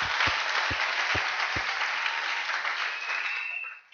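A congregation claps loudly and steadily in a church service, a dense, sustained wash of applause with a few low thumps that fades out at the end.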